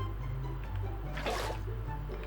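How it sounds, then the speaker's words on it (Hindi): Filling a bucket with water from a swimming pool in Minecraft: a short splashing, sloshing burst rises about midway over a steady low background drone. "पानी भरने में आया हूँ अपने स्विमिंग पूल पे"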